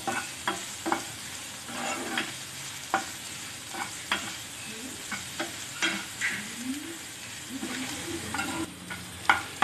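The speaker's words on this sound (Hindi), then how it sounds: "अब इसको भी अच्छे से भून लीजिए जब तक जिंजर गार्लिक का जो कच्चा फ्लेवर है जो उसका स्मेल है वो चली ना जाए" Ginger and garlic fry in a pan with a soft, steady sizzle, punctuated by repeated scraping and clinking of a spoon stirring at a regular pace, close and fairly quiet with no talk.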